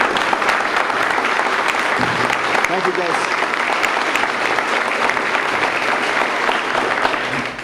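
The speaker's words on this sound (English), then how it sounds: "please let's give them a round of applause" Sustained crowd applause for the EDC board at the Mission, Texas CEED building inauguration, a dense even wash of clapping lasting throughout, with a brief spoken thank-you heard over it.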